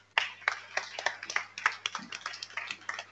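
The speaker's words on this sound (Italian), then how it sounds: "ora le chiamerei qui con noi per un meritato applauso" A small audience at the Premio Prunola 2019 award ceremony claps for the hostesses, with uneven, fairly sparse hand claps close by over a low steady hum.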